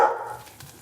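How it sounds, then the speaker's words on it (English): A dog barks once in the background of a home kitchen while it chases a cat, a single short, fairly loud bark that fades quickly with no speech over it. "I apologize for the crazy dog in the background, but he's chasing the cat."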